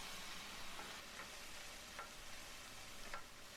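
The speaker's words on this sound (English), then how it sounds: "Let me stir because I don't want it to burn." Broccoli beef stirred in a frying pan over the fire, a soft continuous sizzle with a few faint scraping strokes of the utensil spaced out across the stretch, quiet and close.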